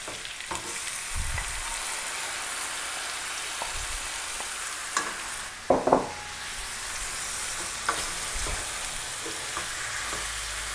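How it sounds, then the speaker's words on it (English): A spatula stirs chicken curry with finely chopped habanero or Thai chilies and freshly added tomatoes in a hot pan: a steady sizzle with soft scraping strokes and one louder clatter partway through. "I'm going to stir this up, and now I'm going to add the tomatoes"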